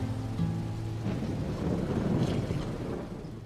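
Heavy rain pours in a steady, loud hiss, with a low rumble underneath that suggests thunder, and no voices.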